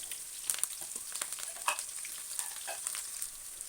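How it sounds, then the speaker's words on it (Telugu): Green chillies and curry leaves fry in hot oil, with a steady close sizzle broken by small pops and crackles, for an egg curry. No one speaks. "దీన్ని చక్కగా గోల్డ్ కలర్ వచ్చేదాకా మంచిగా వేపుకోండి"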